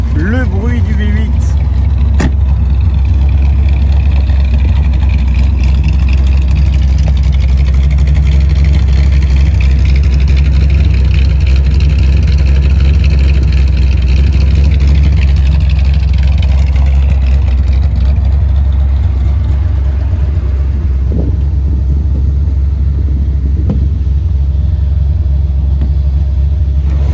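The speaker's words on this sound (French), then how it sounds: "le bruit du V8." The V8 engine of an AC Cobra MK IV Autokraft runs loudly and close by, a heavy continuous low rumble with some revving swells throughout the stretch.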